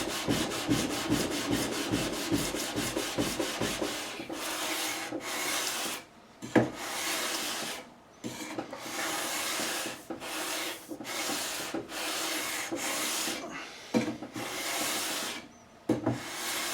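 Sandpaper of 240 grit rubs along the wood of a 1973 Gibson Les Paul Custom guitar fretboard in repeated back-and-forth strokes, a steady close scratchy hiss broken by short pauses, with no talking.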